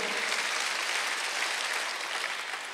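Church congregation applauding during a Sunday worship service, a steady dense wash of clapping from many hands that holds evenly throughout.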